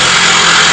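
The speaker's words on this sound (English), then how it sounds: "As you hear the electric jackhammer" An electric jackhammer pounds at an archaeological excavation site, a loud, harsh, steady broadband buzz filling the short moment.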